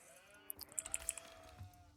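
Sheep bleating in the strategy game Age of Empires during a Knights Templar build order, a run of short, clipped in-game bleats bunched together in the middle, fairly faint over a quiet background.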